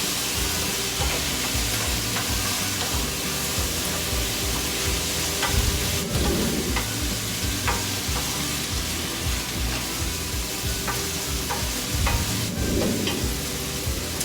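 Food sautés in a pan with a steady, loud sizzle and frying hiss throughout, broken by occasional utensil scrapes and stirring strokes.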